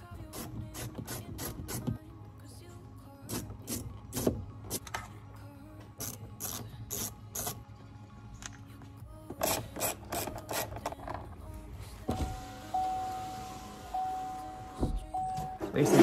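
Pry tools work car speaker trim loose, giving a series of close clicks, snaps and scraping rubs of plastic that come in uneven bursts, with light mechanical rattling in the background.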